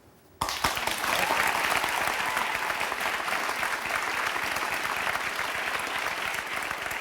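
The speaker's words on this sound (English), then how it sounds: "So, look at these people all clapping." Loud, sustained applause from a television talk show studio audience, bursting in abruptly after a brief quiet moment and holding as a dense, steady roar of many hands clapping.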